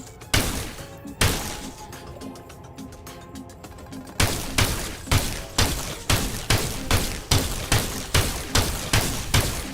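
Gunfire in the shooter video game Sulfur: a few separate loud shots, then a steady, rhythmic run of about a dozen evenly spaced heavy reports, close and punchy with no speech.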